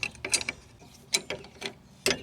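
Wrench working a front stabilizer link nut loose on a Cobalt SS, with threads that may be damaged from cutting: a few separate clicking, ratcheting bursts, close and moderately loud, with short pauses between them.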